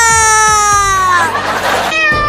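A cartoon cat's loud, drawn-out meow with a falling, whiny tone, close and clear, followed by a brief second cry.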